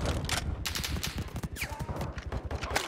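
Rapid automatic gunfire in a Call of Duty: Modern Warfare II multiplayer match, a dense, continuous rattle of shots throughout, loud and close, with other game effects mixed in.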